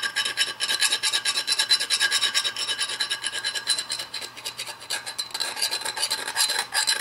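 A metal file rasps steadily along the edge of a tomahawk axe head, continuous close scraping strokes with a slight pulsing rhythm and no talk.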